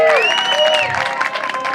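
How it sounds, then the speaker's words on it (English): Outdoor crowd at a freedom festival in Honolulu, Hawaii, applauding the event organizers with loud, continuous clapping mixed with cheers and whoops, including a rising high-pitched shout across the first second. "Let's give a round of applause to all the people that put this event together today."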